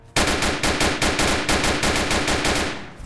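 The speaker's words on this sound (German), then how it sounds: "Auf wen schießt der?" Loud, rapid automatic gunfire rattles in a steady string of close shots for about three seconds, then tapers off slightly at the end.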